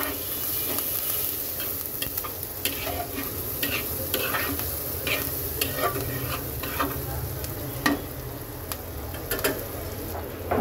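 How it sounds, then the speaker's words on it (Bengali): Chopped onion and green chilies fry in a pan with a constant dense crackling sizzle, scattered sharp pops and occasional light stirring scrapes, steady and close throughout. "এখন দিয়ে দেব কেটে রাখা পেঁয়াজ আর কাঁচা লঙ্কা। পেঁয়াজটাকে খুব সুন্দর করে ভেজে নেব।"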